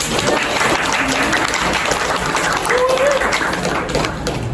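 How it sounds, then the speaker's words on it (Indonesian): An audience applauds selected university students at a community service event, dense clapping sustained at a loud, even level, with faint voices mixed in. "Tepuk tangan untuk kalian semua."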